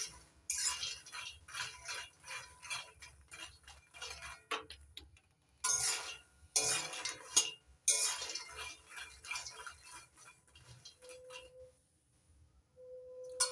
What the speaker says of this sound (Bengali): অনবরত নাড়াচাড়া করে ভাজতে হবে, নাহলে পুড়ে যেতে পারে তলার থেকে